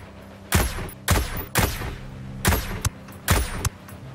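Sniper gunfire in the video game Ghost Recon Breakpoint, five heavy booming shots at uneven intervals, loud and close, each with a short echoing tail.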